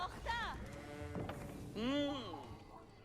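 Sheep in Age of Empires IV bleat twice nearby, each a wavering, nasal baa, with a short pause between them and faint game ambience underneath.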